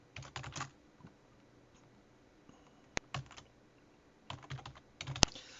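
Typing a note on a computer keyboard, a few short bursts of quiet key clicks separated by pauses, close and alone.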